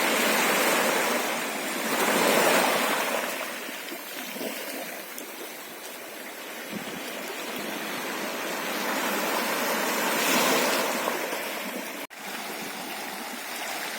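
Sea waves wash onto a beach beside a river mouth with a rising tide, heard as a broad continuous rush that swells and ebbs in slow surges, fairly close and without voices.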